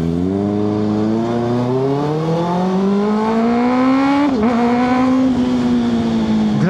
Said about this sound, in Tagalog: Maganda yung tunog ng tambuche,